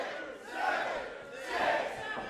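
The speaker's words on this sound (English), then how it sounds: "the best part is the countdown from the crowd as we wait for #3 here in the Kyle Cup" A wrestling crowd at a pro wrestling battle royale chants a countdown in unison, two loud swelling roars rising and falling in rhythm, filling the arena.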